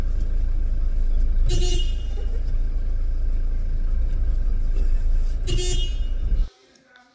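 During a car check, a vehicle horn is tested with two short honks a few seconds apart over a steady engine hum, before the sound cuts off abruptly.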